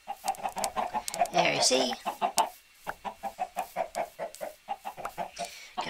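Chickens in a city-building video game cluck in a quick, rhythmic series of short, close, bright calls, with a brief burst of louder squawking early on and a few spoken words in between.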